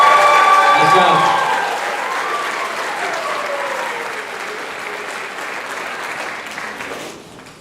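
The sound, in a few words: audience applause at a band banquet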